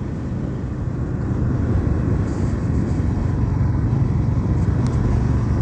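Motorcycle on a road trip through Venturosa toward Pedra Furada, its engine droning steadily and close with constant road and wind rush, no talking.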